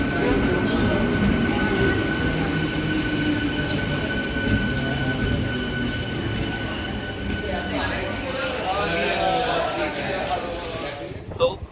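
A Bongaon–Sealdah local train sits at Barasat station, its loud, continuous rumble filling the platform, with squealing wheels and rising mechanical whine toward the end.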